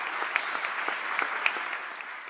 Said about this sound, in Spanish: Les pido un aplauso a mi padre.